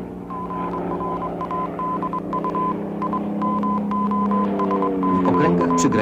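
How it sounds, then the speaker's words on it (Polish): A 1939 Minsk radio station transmits agreed signals as a repeated, steady electronic tone in short regular pulses over a hum-laden broadcast background, loud and continuous. "radiostacja Mińsk podaje umówione sygnały celem ułatwienia"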